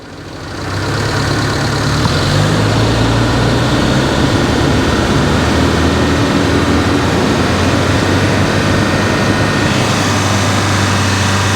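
A Daihatsu Feroza engine, freshly rebuilt and fully warmed up, rises from idle and holds a steady loud drone near 3000 RPM, close by and with no talk over it.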